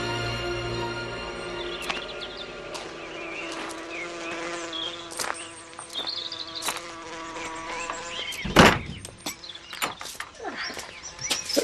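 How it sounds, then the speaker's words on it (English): Insects buzzing around garden geraniums in wasp season, a steady thin drone with overlapping whines, fairly close and continuous, with a louder rustle or thump partway through. "It's the wasp season already, Miss Marple."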